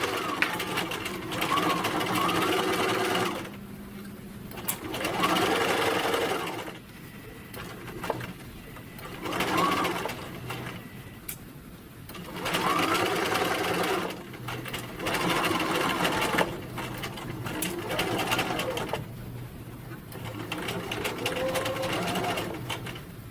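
A sewing machine stitching a flat felled seam in organza fabric runs in several bursts separated by short pauses, loud and close, with faint bird cooing in the background.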